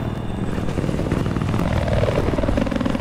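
A helicopter in the video game Battlefield 4 roars steadily throughout, a loud continuous rotor and engine drone with no talk over it.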